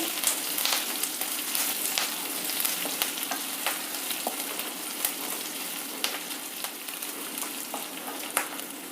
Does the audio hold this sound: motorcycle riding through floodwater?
no